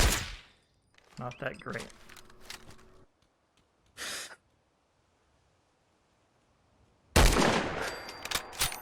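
A .308 rifle fitted with a ported muzzle fires in Fallout 4, a loud sharp report near the start, another brief blast midway and a heavier burst near the end, with a short spoken remark between shots.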